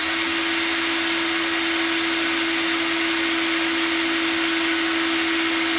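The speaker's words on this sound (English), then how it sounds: "we'll use my drill with the square bit. I'll engage that to where the cable would normally go on the speedometer" A Ryobi drill fitted with a square bit spins a classic motorcycle speedometer through its cable drive, making a steady, loud, continuous whirring hum with a constant pitch and no pauses or talking.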